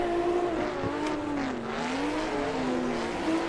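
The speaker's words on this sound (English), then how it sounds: "I hear some V8 behind me." A V8-engined race car in Assetto Corsa droning close by with a wavering, rising and falling engine note, plus tire squeal, loud and continuous with no voices.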